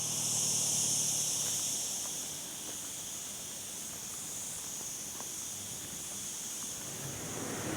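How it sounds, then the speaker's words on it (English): Crickets chirp in Mijas, a hillside inland town in Spain, a faint steady high-pitched trill running continuously under a soft hiss of wind, with no talking. "The sound you can hear is the sound of crickets"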